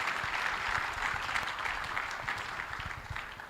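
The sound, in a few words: audience applauding a summit speaker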